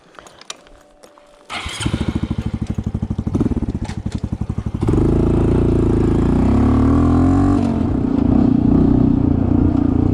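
A Honda CT125 motorcycle engine starts with rapid chugging and then settles into a loud, steady close drone as it heads off on a trail ride.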